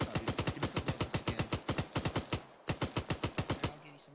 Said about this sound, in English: There, the machine gun's still up.